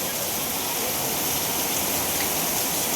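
Heavy rain pours in a steady, even hiss with no breaks, close and fairly loud, with no voices.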